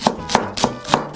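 Close, steady knife strokes mincing white garlic and green onion whites on a board, four sharp regular chops with no voices.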